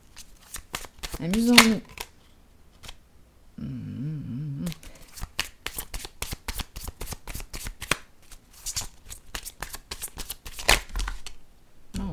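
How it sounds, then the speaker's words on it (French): A deck of cards is shuffled repeatedly up close, with dense riffling bursts and sharp snapping flutters, while someone speaks French briefly at the start and an exclamation breaks in partway through. "On va mêler les cartes."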